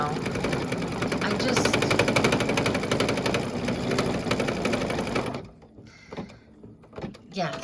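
An embroidery machine stitching an oven mitt design, slowed to 800 stitches per minute, hammers out a rapid, steady banging rhythm that runs loud and close for about five seconds, then stops and leaves faint, scattered clicks.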